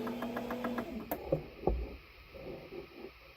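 A sewing machine winds its bobbin, a short steady mechanical whir with rapid even ticking that stops after about a second, followed by a few faint knocks and clicks.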